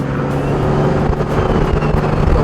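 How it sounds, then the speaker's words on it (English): A car engine runs steadily on a sunny San Diego road with a loud, continuous drone and a low hum, with no break and no voices over it. "This car sounds amazing"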